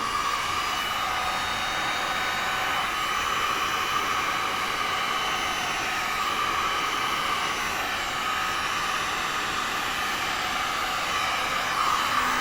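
Heat gun set to its lowest heat setting, blowing air near resin work with a steady, even broadband whoosh that holds unchanged throughout, close and alone.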